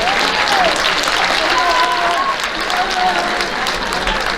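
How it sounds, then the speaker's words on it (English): A banquet crowd applauds the JV girls basketball players at a high school athletic awards event, a steady loud wash of clapping throughout with voices and faint whistles mixed in. "Let's give these young ladies a round of applause."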